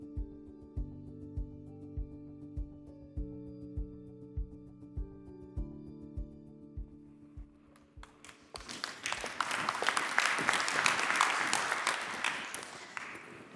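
Audience applause at a European healthcare-affordability conference session, rising after several seconds of steady, rhythmic tonal music and swelling into a dense, sustained round of clapping through the final stretch.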